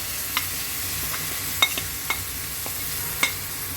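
A spice mix of turmeric, chilli, cumin, garlic paste, green chilli and coriander powder sizzles in hot oil, with a steady fry hiss and a few sharp stirring clicks and pops, close up and without talk.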